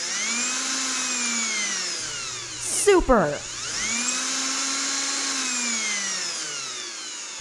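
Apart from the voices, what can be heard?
power drill unscrewing door hinges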